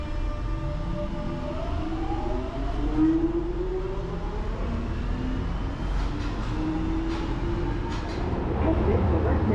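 A London Underground train running through Green Park station: its electric motors whine in rising and falling tones over a steady rumble, with an onboard announcement voice heard over the noise.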